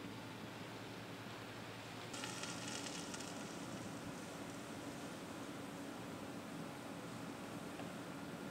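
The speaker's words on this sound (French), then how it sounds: "on va observer les petites bulles d'azote qui vont passer de l'état liquide à l'état vapeur, gaz, très rapidement" Liquid nitrogen spilled on a granite floor boils and vaporizes into gas as a steady, hissing sizzle that swells brighter and louder after about two seconds and then holds.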